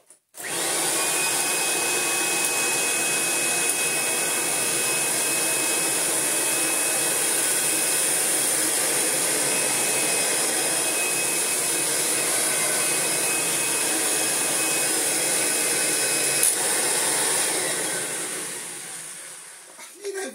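A Kirby G4 upright vacuum cleaner runs with its brush rolls off, a loud steady whine and airy rush holding constant for about seventeen seconds before winding down.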